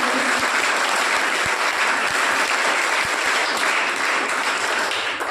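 An audience at a college Gandhi Jayanti event put on by an NCC wing breaks into loud, sustained applause to welcome the principal, a dense wash of clapping that holds steady throughout.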